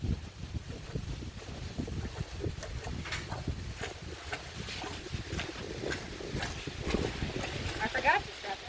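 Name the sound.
horse and buggy clip-clopping past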